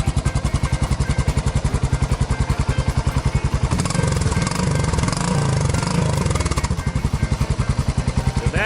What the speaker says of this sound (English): she starts right up. You can hear it is not fuel injected, it has the choke